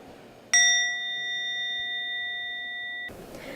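A single bell struck during a mindfulness exercise rings out clearly and close, its pure ringing tone sustaining evenly for about two and a half seconds in a quiet room before stopping.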